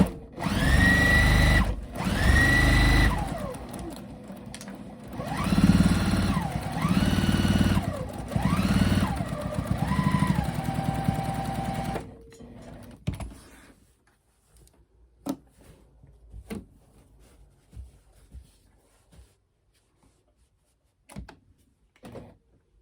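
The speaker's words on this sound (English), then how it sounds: "I'm going to go a little bit bigger there on this stitching, see how that goes." A sewing machine stitches a no-binding table runner in running bursts with rising and falling motor whine, close and loud for about twelve seconds, then stops, leaving faint handling clicks and fabric shuffling.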